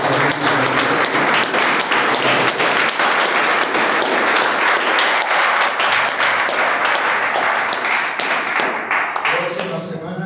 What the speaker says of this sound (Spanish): De una prueba de palmas al Señor.